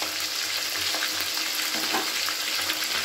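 Small khoira fish sizzle in hot oil after one side has browned, a continuous close crackling fry with faint stirring and no voices.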